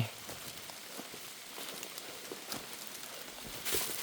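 Steady rain comes down outdoors while mushrooms are gathered, a continuous wash of drops with occasional close taps, moderately quiet and with no speech.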